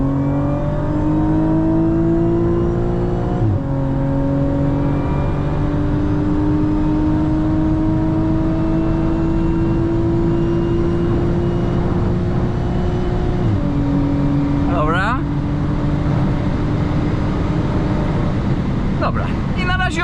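An Audi S4 3.0 TFSI making 542 hp in sport mode pulls hard from 100 to 200 km/h on a highway. A steady engine drone climbs in pitch inside the cabin, broken by two quick upshifts, and a brief voice comes in near the end.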